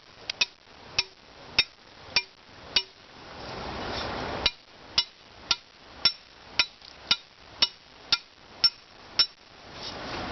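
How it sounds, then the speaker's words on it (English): An earth anchor is hammered into the ground in a beaver slide area, about twenty sharp metallic strikes coming in a steady rhythm with a brief pause midway. The strikes are close and ring clearly over quiet surroundings. "I'm going to use the earth anchor. I'm going to go ahead and hammer that in."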